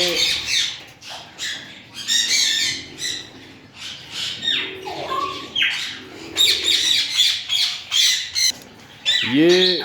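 A female creamino and a male albino parakeet squawk loudly and repeatedly at close range in bursts of harsh, overlapping calls with short chirps, in a bird-keeping setup.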